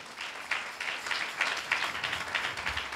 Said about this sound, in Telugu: కట్టిగా చప్పట్లు కొడదామా